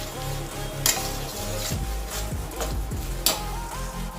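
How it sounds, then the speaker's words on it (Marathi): Melting jaggery is stirred in a pan with a steady sizzle beneath it, a utensil scraping and knocking against the metal at irregular intervals, and two sharper clinks rising above the bubbling. "गुळ आपल्याला सतत हलवत राहायचं आहे जेणेकरून तो खाली चिटकणार नाही किंवा जळणार नाही"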